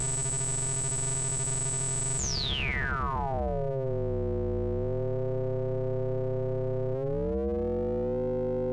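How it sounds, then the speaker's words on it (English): Sine wave from an auDSPr auGEN X synth: a steady high tone holds, then sweeps smoothly down over a couple of seconds into a rich cluster of shifting, wobbling low harmonic tones that slowly drift and settle, with no voice. "I wanted you to see just how deep you can get with just a sine wave as the source"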